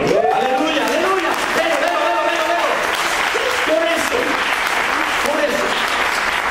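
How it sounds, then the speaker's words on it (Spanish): Church congregation applauds loudly and steadily, with voices calling out and a speaker's raised voice running over the clapping throughout. "Denle un aplauso al Señor"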